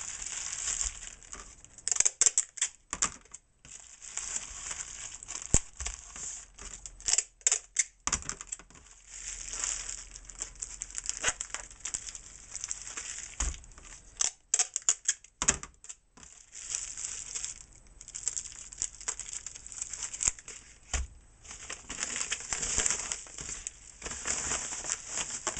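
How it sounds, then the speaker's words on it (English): Bubble wrap being handled while packing orders for shipping: continuous close crinkling and crackling with irregular sharp pops and rustles, steady throughout with no talking. "Need some more bubble wrap here."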